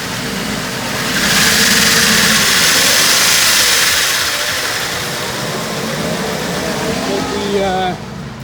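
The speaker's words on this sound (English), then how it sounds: "This is a Dodge Intrepid. Started up with a jump start. Go ahead and give it another hard rev." A jump-started Dodge Intrepid with 121,000 miles that had been sitting revs hard, rising from idle into a loud, sustained roar before settling back down at the end.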